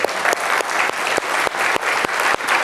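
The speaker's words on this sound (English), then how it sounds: "One more round of applause." Sustained audience applause fills a hall at a graduation ceremony, dense clapping continuing steadily throughout at a moderate level with no talk over it.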